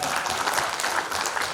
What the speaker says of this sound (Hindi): मेरे लिए बजा दो ताली थोड़ी सी